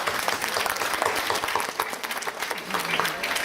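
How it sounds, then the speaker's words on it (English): A graduation audience at a boys' school breaks into dense, sustained clapping that fills the hall and stays loud and even throughout, with no talking over it. "Let's give him a round of applause."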